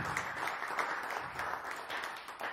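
Steady applause fills a small live room after a jazz quartet tune, a dense, even patter of clapping that holds at a constant level throughout.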